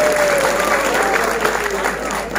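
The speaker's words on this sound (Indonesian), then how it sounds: "Tepuk tangan meneh." A crowd applauds at a religious gathering led by a kiai at an Islamic boarding school in Indonesia, with dense sustained clapping across the whole stretch and a faint voice or tone running underneath.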